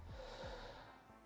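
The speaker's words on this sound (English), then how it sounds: "take a deep breath" A single deep breath drawn in and let out close to the microphone, soft and breathy with a faint snort-like nasal edge, heard alone with no talking.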